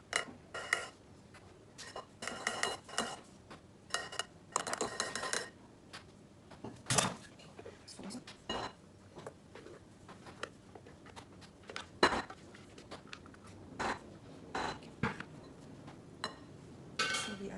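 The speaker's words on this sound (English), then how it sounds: "folding the egg whites to the yellow batter" Egg whites being folded into yellow waffle batter with a spatula, heard as soft scraping and clinking of the utensil against the bowl in irregular bursts, fairly quiet and with no one talking.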